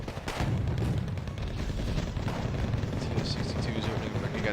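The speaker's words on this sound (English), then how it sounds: "that's flame cannons now being fired out by the TO-62s, taking out that Delta Force" T-62 tanks in Wargame: AirLand Battle fire flame cannons in a constant, dense rumble of blasts and roar, loud and unbroken throughout, with a voice talking faintly underneath.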